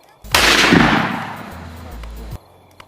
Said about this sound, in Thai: เสียงปืนในมือไอโก้ ดังขึ้นอีกนัดหนึ่ง